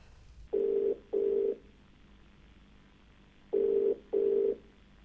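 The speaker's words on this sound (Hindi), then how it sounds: "अब लगाते हैं हम अपने दूसरे कॉलर को कॉल" A telephone ringback tone for an outgoing call to a TV show caller, heard as two pairs of short, steady, buzzing rings separated by a long pause, clear and close with no speech.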